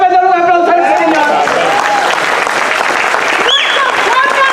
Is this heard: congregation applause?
yes